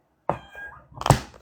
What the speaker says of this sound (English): Your cat sounds upset, Retina.